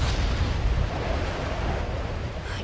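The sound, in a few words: explosion of castle being destroyed, anime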